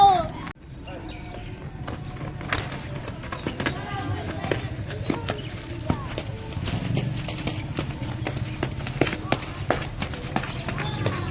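Horse hooves clip-clop along with faint whinnies, set against a busy outdoor background with people talking nearby.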